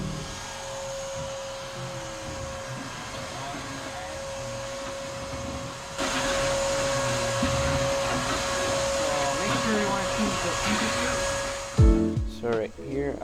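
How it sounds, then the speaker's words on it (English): A vacuum cleaner sucks ashes from the firepot and diffuser plate of a Pit Boss Pro Series pellet grill, a steady whining drone that grows louder and rougher midway as debris rattles through the hose, then sputters near the end. "I'm just vacuuming the ashes left to right, and just like making sure there's no ashes on the diffuser plate."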